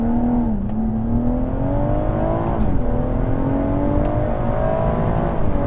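BMW M140i with a Stage 1 tuned B58 engine pulling away hard from a standstill, loud steady engine drone climbing in pitch through first gear, a short dip at the shift, then rising again in second.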